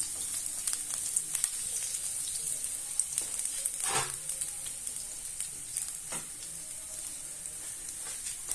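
Garlic frying in a frying pan for a fish soup gives a steady, moderate crackling sizzle throughout, with a few brief scrapes and clinks of a utensil against the pan and no voices.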